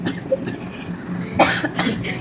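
A couple of coughs at close range, one sharp burst midway and another soon after, over faint background noise.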